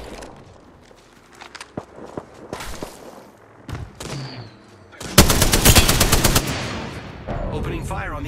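Gunfire in the video game Apex Legends, with scattered single shots and thuds giving way to a loud, sustained burst of rapid automatic fire, along with footsteps and occasional game voice lines.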